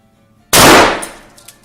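A single 12 gauge shotgun blast goes off close by with a sharp, loud crack, and its ring decays over about a second after a quiet start.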